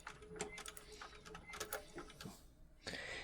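A sewing machine stitches a leather bag in short bursts of rapid mechanical clatter, stopping and starting, close by with light handling noises between runs.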